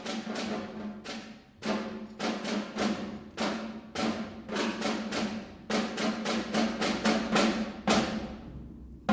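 A sixth grade band percussion section plays together at a school concert, with a series of sharp struck hits and ringing decays in an uneven rhythm, close and fairly loud, with no talking.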